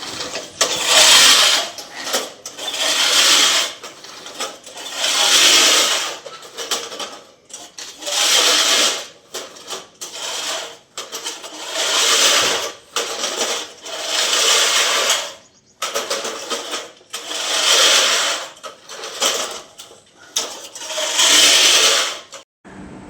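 Lawn grass cutting machine running over a garden lawn after the grass was first shortened by hand, its motor droning in repeated loud bursts of a couple of seconds each, separated by short quieter gaps, with no talking.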